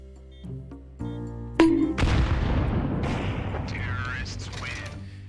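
Grenades burst in a Counter-Strike match on a Faceit server, a loud booming blast followed by a long rumbling decay with mechanical clicks before it.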